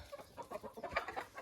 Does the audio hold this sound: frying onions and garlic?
no